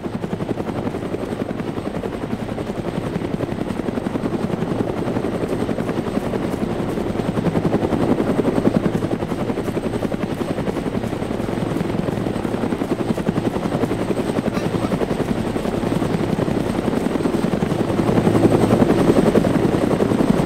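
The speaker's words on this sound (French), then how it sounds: "Deux hélicos." Two helicopters fly in ArmA 3, a continuous near rotor thump and engine drone that holds steady and swells slightly toward the end, with no talking.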